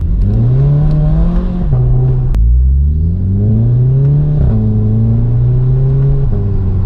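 A Volkswagen Scirocco with a new aftermarket exhaust, loud and close, its deep engine note rising through the revs, dropping at gear changes and climbing again as it accelerates hard.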